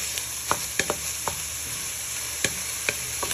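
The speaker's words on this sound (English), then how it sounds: "So you're just giving these a good toss for a few minutes in the flavour of our beef mince" Beef mince with cabbage and vegetables frying in a pan under a steady loud sizzle, punctuated by a series of sharp utensil taps and scrapes as the mixture is tossed, close and without voices.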